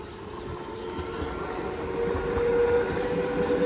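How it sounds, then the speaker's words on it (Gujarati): A train bound for Ahmedabad pulls into a station with a low, continuous rail rumble that gradually grows louder as it approaches, joined by a faint, thin, steady tone. "ટ્રેન આવી ગઈ છે"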